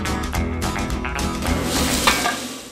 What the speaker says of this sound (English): That's the sound of Nebraska corn-fed beef.